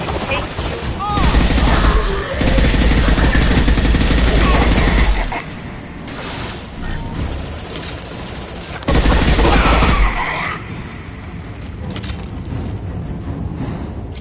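Gunfire in Mass Effect 2 roars in sustained loud automatic bursts, one lasting about five seconds and another shorter one later, with quieter battle noise and faint voices between them.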